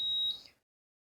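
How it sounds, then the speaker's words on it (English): A single short high electronic beep from a blender after its start button is pressed, clean and steady, cutting off into silence. "our blender just beeped and it says add"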